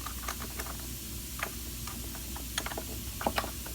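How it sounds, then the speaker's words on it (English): Soft ratcheting clicks as bolts are tightened on a laminate countertop miter joint, small scattered ticks over a steady low background hum, close but faint, with no talking. "use a spring clamp to help keep it in place while I'm tightening the bolts"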